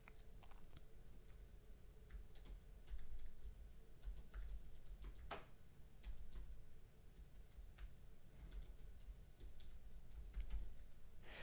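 Computer keyboard keys tapped in a quiet room while someone types into a document, a soft, irregular run of close clicks with brief pauses between bursts.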